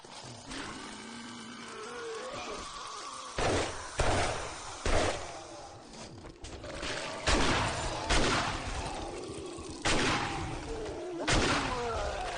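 Shotgun gunfire in a video game comes as a series of sharp, loud blasts at irregular intervals over a busy, noisy game background.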